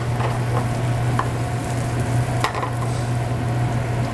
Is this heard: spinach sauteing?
yes